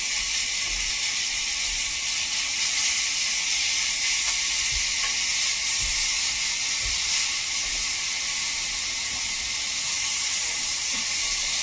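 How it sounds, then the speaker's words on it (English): Peppercorn-crusted pork tenderloin searing in a hot pan gives a constant, even sizzle and hiss that holds steady throughout, alone and without talk. "Okay, so the pork is seared properly."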